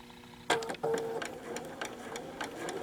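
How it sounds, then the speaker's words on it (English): A Bernina sewing machine stitches along a marked line while piecing quilt triangles, giving a soft rapid mechanical whirring with a short start, a brief pause, then steady running, close and without talk. "So I'm going to sew on either side of this line."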